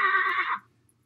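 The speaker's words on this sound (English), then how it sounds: "That's right, a horse." A single horse whinny, loud and close, about half a second long, then it cuts off into near silence.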